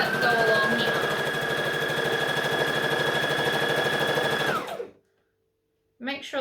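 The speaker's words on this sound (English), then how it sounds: "So we're going to stitch and back stitch as always." A sewing machine stitches a satin shoulder seam on a batwing dress in a steady, loud whirring run of about four and a half seconds, then cuts off sharply, leaving silence before a brief rustle.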